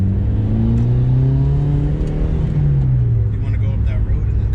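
A 2006 Mitsubishi Evolution engine hums and revs up loud and close, a steady droning tone rising and then easing off as the car pulls away.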